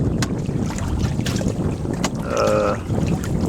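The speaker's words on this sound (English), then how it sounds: "Finally got some good wind." Wind buffets a small sailing proa boat at sea, a steady rushing roar across the mic with gusts and a brief creaking tone from the boat partway through.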